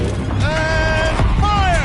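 A gun turret rotating in the video game Horizon Zero Dawn, a steady mechanical whirr with rising and falling whining tones over a rumbling game soundtrack, with a voice speaking briefly.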